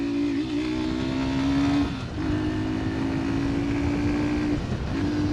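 A Hero Super Splendor Xtec 2.0 125cc motorcycle accelerates through the gears. Its engine drones loud and steady, dropping briefly at each of two shifts before climbing again, with no talk over it.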